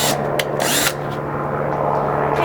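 A power drill whirs steadily into a 5-gallon plastic insulated cooler outdoors, with a continuous motor drone and brief higher bursts near the start.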